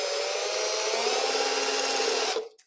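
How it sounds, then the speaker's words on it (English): A conical drill bit bores a hole, giving a steady, loud whirring grind that runs unbroken for over two seconds before cutting off abruptly, with a faint click after. "I'm going to try to be as careful as I can and not drill it too big."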